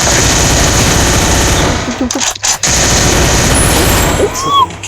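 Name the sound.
gunfire in a video game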